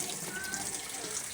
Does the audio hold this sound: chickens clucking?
no